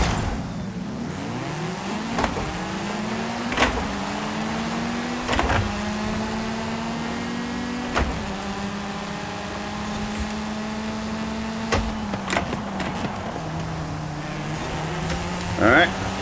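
A Ford Escort races on a dirt course in Forza Horizon 5, its engine pitch rising and holding through several gear shifts, punctuated by sharp clicks and knocks, with a person talking over it.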